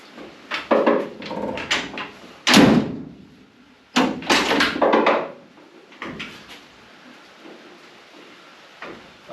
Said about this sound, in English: Even with that grease, you hear that click, click, click, click.